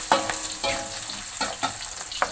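Shrimp paste (terasi) fries in a pan, a close, steady sizzle broken by repeated scraping and stirring strokes, with no talk.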